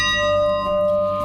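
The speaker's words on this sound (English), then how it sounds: "is a big locomotive bell." A big locomotive bell, originally from the Milwaukee Road railroad, rings with a sustained metallic clang and long, shimmering overtones, loud and close, with no talking.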